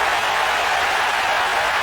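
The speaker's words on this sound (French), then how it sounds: "La foule se fait entendre." A stadium crowd roars steadily during a football match right after a goal, a dense, continuous wash of cheering that holds at a loud, even level throughout without pause.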